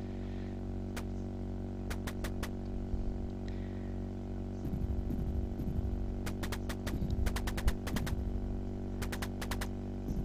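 Gunfire in the DOS flight game Corncob 3D: bursts of sharp, rapid shots in clusters over a constant droning engine hum, growing busier toward the end.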